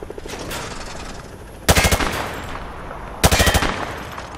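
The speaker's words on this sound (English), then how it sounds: "He sprayed bullets all over the damn place." Two loud bursts of automatic rifle fire at shooting-range targets in Call of Duty Modern Warfare 2 Remastered, each a rapid string of about six shots, separated by quieter ambient game sound.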